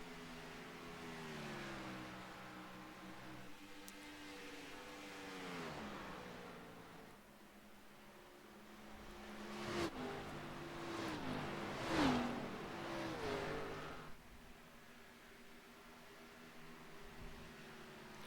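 Stock race cars roaring along the straightaway at Darlington at around 180 mph, engine notes rising and falling as several cars pass in waves, swelling to a loud pass near the middle before easing off.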